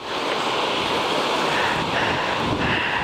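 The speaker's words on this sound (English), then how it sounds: "we are under wind warnings, and it is windy, let me tell you" Strong wind under a wind warning on a cold spring day, a loud steady roar of gusting air buffeting the microphone without a break, with no voices.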